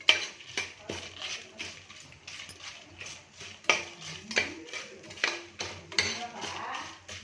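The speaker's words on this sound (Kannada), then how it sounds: "ಇವಾಗ ಇದನ್ನೆಲ್ಲ ಸ್ವಲ್ಪ ಫ್ರೈ ಮಾಡ್ಕೊಳ್ಳೋಣ. ಲೋ ಫ್ಲೇಮಲ್ಲಿ ಹುರ್ಕೊಳ್ಳಿ" Masala spices dry-frying on a low flame in a pan for Davanagere-style tomato bath, with a spatula scraping and stirring in repeated strokes over a soft background hiss.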